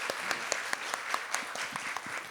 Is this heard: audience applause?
yes